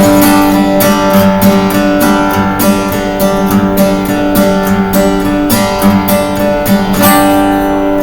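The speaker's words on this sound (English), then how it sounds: "So by itself, the guitar just sounds like this." A strummed guitar plays a steady rhythmic pattern alone, loud and close, with regular choppy strokes throughout.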